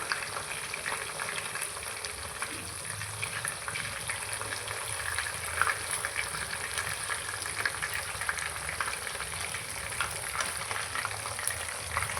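Chicken 65 pieces fry in hot oil with a constant crackling sizzle and scattered pops, close and fairly soft, with faint stirring and turning noises mixed in and no one talking.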